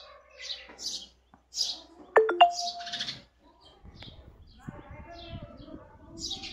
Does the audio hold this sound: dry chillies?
no